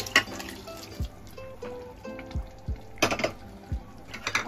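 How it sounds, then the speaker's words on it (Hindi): Boiled mutton goes into a pan of fried masala and oil, giving close, soft sizzling with scraping and stirring clinks from a spoon against the pan. "अब हम इसमें डालेंगे बॉईल किया हुआ मटन ये पूरा इकट्ठा डाल देंगे एक साथ में"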